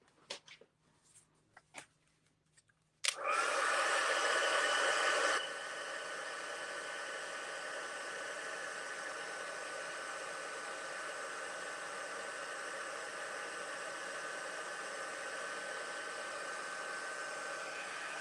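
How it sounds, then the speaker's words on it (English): A heat tool for heat-setting craft work switches on after a few light handling taps and blows hot air in a loud steady rush, easing to a slightly lower continuous hiss that runs to the end. "Now we're going to heat set that real quick with our heat tool."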